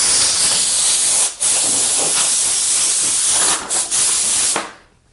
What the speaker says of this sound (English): A quick blast of compressed air.